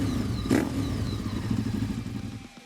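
A Ducati 848 motorcycle engine runs steadily up close, a low throbbing rumble with a brief clattering surge near the start, then settling into a continuous idle-like drone that fades slightly at the end.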